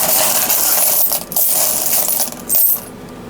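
Coins dropped and shuffled onto a surface during a world coin hunt, a dense, continuous metallic jingle, close and loud, easing off briefly near the end, with no voices.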